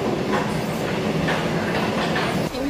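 Steady rumble and rhythmic clatter of a train running on rails during a rail trip in Korea, heard from inside a carriage, continuous and fairly loud throughout.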